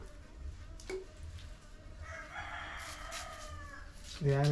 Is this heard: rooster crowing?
yes